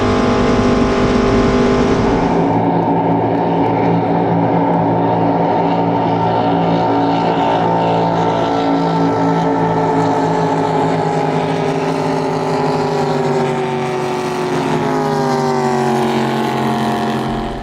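Racing jet boats roar continuously at a world championship heat, a loud, sustained engine drone with shifting pitch as the boats power along the river course, with no talk.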